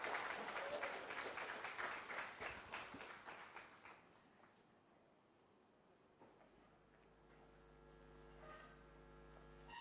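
Audience at a national education conference applauds a keynote speaker taking the floor; clapping is strong at first, fades out by about four seconds, and a steady electrical hum follows.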